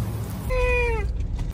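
A single drawn-out, tonal meow, likely a person imitating a cat, over a steady low background hum.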